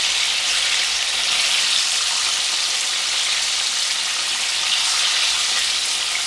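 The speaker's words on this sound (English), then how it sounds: "let's fry the other batches" Chicken wings deep-frying in hot oil, a steady dense sizzle and crackle that holds evenly throughout with no voices.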